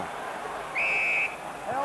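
A referee's whistle sounds once in a single sustained half-second blast at a 1998 England versus South Africa rugby match, under steady crowd noise with a commentator talking.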